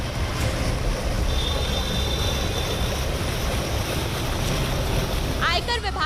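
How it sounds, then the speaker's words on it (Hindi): Rainwater gushes and churns up out of a flooded drainage manhole on a waterlogged Delhi street, a steady loud rushing wash with wind buffeting the microphone throughout. "वहां पर कोई मैनहोल या गड्ढा है जो पानी की निकासी के लिए बना हुआ है, लेकिन फिलहाल उसमें से पानी जो है वो ऊपर की ओर उछाल मार रहा है।"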